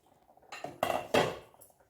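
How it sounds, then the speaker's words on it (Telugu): A metal lid is set down on a cooking pot of frying masala for matar paneer: two or three quick, close clattering clanks in a row, with no voices. "ఫైన్గా మూత పెట్టేసుకుందాం"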